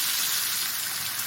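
Potatoes fry in very hot oil, a dense, steady crackling sizzle, close and loud with no break.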